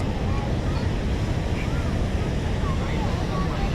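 Heavy roar of water pouring over Niagara Falls at night, a dense unbroken rush with wind buffeting the microphone throughout.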